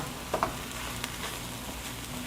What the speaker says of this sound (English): I need to brown the beef completely